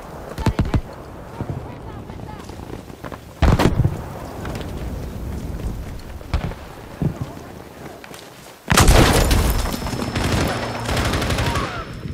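A grenade explosion in Battlefield 5's Breakthrough mode on the Solomon Islands. Several sharp loud blasts are followed by a big rumbling burst near the end, set within constant gunfire and battle noise.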